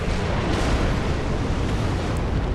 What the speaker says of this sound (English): So he has an explosion attack.